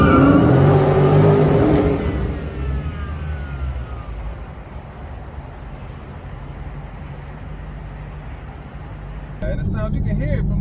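Exhaust of a Dodge Charger Scat Pack Widebody with an aftermarket exhaust mod, a loud rev and crackle at first that settles into a steady deep rumble heard close by, with a brief burst of noise near the end.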